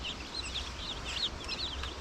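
White Rock chicks, a Cornish-cross type, peeping in a brooder: many high, thin chirps overlap continuously at close range over a low steady hum, with no talking.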